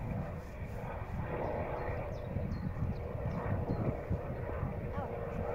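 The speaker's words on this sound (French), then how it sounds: "C'est même pas un avion, c'est un hélicoptère." A low, continuous engine drone from a helicopter flying overhead sits under the clip while faint voices murmur in the background.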